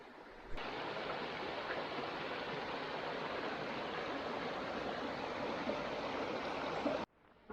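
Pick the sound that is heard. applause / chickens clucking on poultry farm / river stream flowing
river stream flowing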